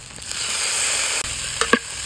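Boiled homemade wheat noodles tossed with tomato and vegetables fry in a pan, a steady close sizzle with a few stirring scrapes and clicks near the end.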